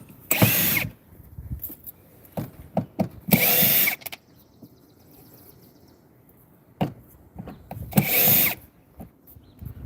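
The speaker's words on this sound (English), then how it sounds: "I'll have to drill those out." A power drill drills out rusted screws in short, loud bursts of whining spin, separated by quieter gaps with small clicks and handling noises, close up.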